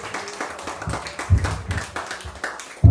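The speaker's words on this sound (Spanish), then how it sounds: "Damos más aplausos." A church congregation claps during a worship vigil, a dense patter of close and distant hand claps building in uneven bursts, with a louder burst at the end.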